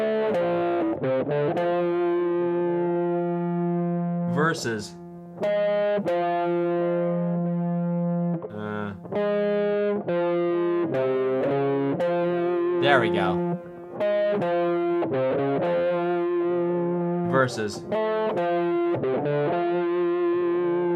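Two sustained, buzzy electronic Super Mario World melody lines play at once in a similar key, overlapping steadily, with a brief spoken remark breaking in a few times.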